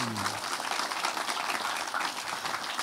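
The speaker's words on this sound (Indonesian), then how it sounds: "Tepuk tangan dong Mas Karim." Audience applause at a Kenduri Cinta discussion gathering in July 2024, a dense, steady wash of clapping lasting about three seconds, with a brief voice audible at the very start.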